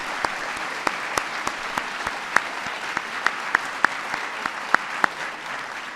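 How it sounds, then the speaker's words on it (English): An audience at a national science and technology medals ceremony applauds a military aide, a broad wash of clapping with a few crisp, closer claps popping out at a steady pace. "let's give a big round of applause to my military aide"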